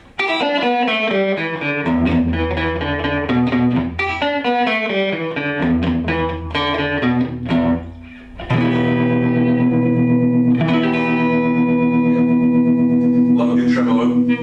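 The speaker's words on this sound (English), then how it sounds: "A tremolo is actually volume going up and down as opposed to a frequency shift" Electric guitar played through a tremolo effect pedal, its volume pulsing up and down. Loud, close chords and sustained notes ring on with distortion and echo, with a brief dip before a long held tone.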